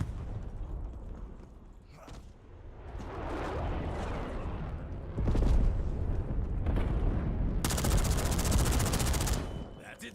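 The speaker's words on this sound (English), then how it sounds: "Release napalm strike on my mark." Napalm strike in a military shooter video game: a swelling roar and burning rush building over several seconds, with rattling bursts of gunfire and a loud crackling blast near the end.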